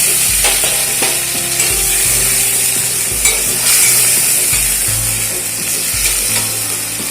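Fried parshe fish hit a pan of sizzling spiced gravy for a village-style fish curry. A loud, close crackle and hiss runs throughout, with scraping stirs and clanks of a spatula against the pan.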